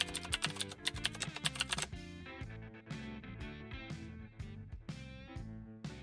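Names typed on a computer keyboard while designing a wedding invitation card in Canva, heard as steady key clicks under a loud backdrop of melodic music that dominates throughout.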